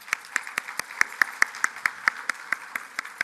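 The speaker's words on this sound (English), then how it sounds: "let's give another round of applause to this year's recipients" At an organization's annual meeting, a small audience applauds award recipients with sparse, evenly spaced claps in a quick steady rhythm, fairly close and moderately loud.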